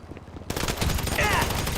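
Rapid bursts of automatic gunfire in the video game GTA V Online crackle densely and loudly, mixed with shouting voices and chaotic in-game combat noise.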